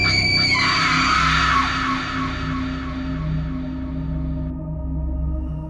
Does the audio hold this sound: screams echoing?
yes